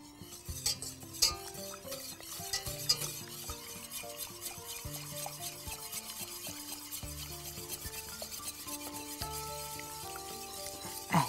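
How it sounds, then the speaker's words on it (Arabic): A spoon stirs a sauce thickening in a pot on the stove as it comes to a boil, with soft, steady scraping and clinks under prominent background music. "نروح نقلب ده علشان ما يكلكعش مننا، اهو ابتدى يغلي فهيبتدي يتخن برضو"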